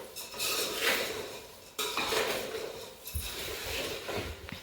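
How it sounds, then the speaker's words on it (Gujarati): Puffed rice being tempered and stirred in a home kitchen pan, with steady metallic scraping and clinking of a spoon against the pan, close and continuous, with no talk over it. "અહીંયા મમ્મી મમરા વઘારે છે."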